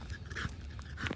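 A micro bully dog out on a 3 a.m. walk pants in quick, close, soft breathy bursts against faint outdoor background noise.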